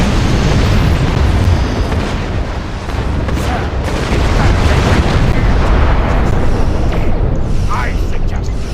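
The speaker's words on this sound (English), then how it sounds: "Well, that gives you a double torpedo hit." Torpedo hits detonating in the space combat game Star Trek Online, a dense, continuous roar of layered explosions and booming impacts that stays loud for the whole stretch, with a voice talking over it.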